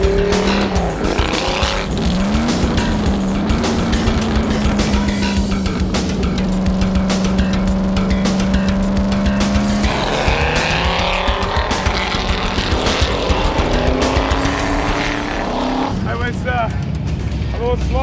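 Shelby cars run pace laps at a large club track event, engines droning steadily with a rising and falling pitch, some tire noise, and voices talking over the cars throughout.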